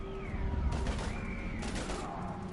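Two bursts of gunfire crackle in Mass Effect, fairly faint and set against a low rumbling battle background with a rising whine.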